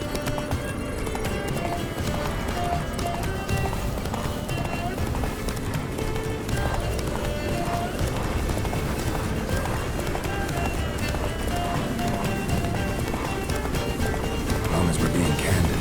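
Hooves of Roach, a horse in The Witcher 3, clip-clopping at a gallop in a steady rhythm under game music and talking voices throughout.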